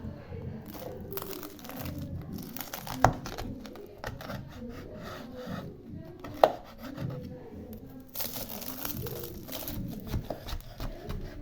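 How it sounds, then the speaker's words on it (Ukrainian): Close, crisp crunching and crackling of crispy cooked meat comes in bursts of chewing or cutting, with a couple of sharp clicks and faint background noise. "Ви послухайте, як він хрустить, який хрустящий."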